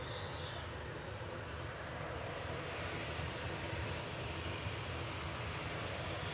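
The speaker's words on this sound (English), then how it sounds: "There goes Eurowings. Heading back to Dusseldorf, DAENI, A320-200 Neo" A Eurowings Airbus A320neo departs Manchester Airport for Dusseldorf, giving a continuous, fairly distant jet engine rumble that stays steady and even from start to finish.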